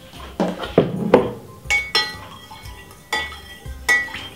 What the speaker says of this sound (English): Give it a stir and then taste it.